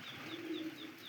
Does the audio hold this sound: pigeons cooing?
yes